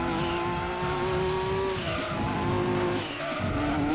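A race car in the Gran Turismo 2 video game corners hard, its engine holding a steady high drone with a slight dip and rise in pitch, and tire squeal layered over a dense rumble.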